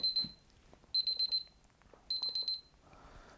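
Electronic timer alarm beeping in short rapid bursts, three clusters of high shrill beeps separated by pauses, close and clear over a quiet room.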